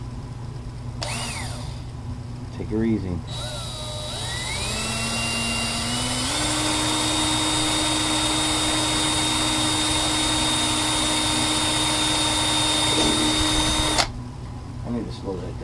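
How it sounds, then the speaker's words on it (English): A power drill drilling a hole whines loudly and steadily for several seconds, its pitch rising as it spins up, with a brief spoken remark before it starts. "So here goes a nasty drill sound."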